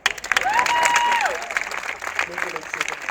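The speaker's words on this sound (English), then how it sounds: "Clap now." A street show audience claps and cheers in a short burst, with a whoop rising over the clapping and a performer's voice calling out alongside.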